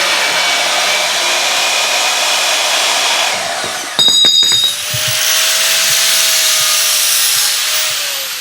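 An angle grinder puts a chamfer on the cut end of steel roll cage tubing for a RZR UTV. The grinding whine runs steady and loud for most of the stretch, with a short harsh burst of contact partway through, then the tool spinning on.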